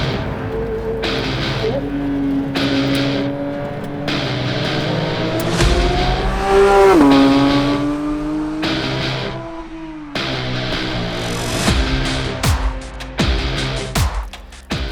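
A brand-new Porsche 911 GT3 laps Circuit Mont-Tremblant in the Laurentides, its engine loud and close as it revs hard, rises through the gears and drops pitch on each shift, with a brief lull partway through.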